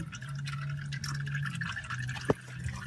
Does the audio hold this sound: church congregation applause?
no